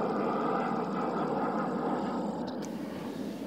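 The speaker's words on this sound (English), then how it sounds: "And that aeroplane was so noisy." A noisy aeroplane passing overhead above hospital grounds, a broad steady roar of engine noise that fills the whole stretch at moderate loudness and holds constant without a clear rise or fade.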